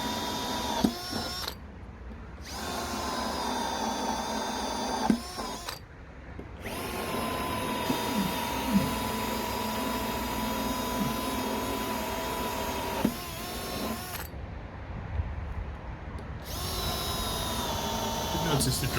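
Power drill running on oak barrels being turned into garden planters, a steady loud whine that stops and restarts in several bursts with brief quiet gaps between runs.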